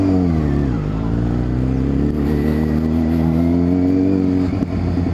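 A Suzuki GSX650F motorcycle engine runs close by in a loud, steady drone. The pitch dips early, then climbs and holds as the rider revs it, and faint talk sits underneath.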